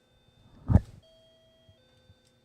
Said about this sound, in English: It's the doorbell, for those that are wondering what that sound is.